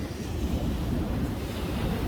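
Ocean waves wash onto a shore in a broad, steady roar of surf mixed with wind buffeting the microphone, continuous and fairly loud with no talking.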